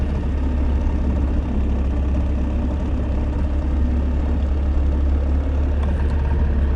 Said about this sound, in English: The outboard is running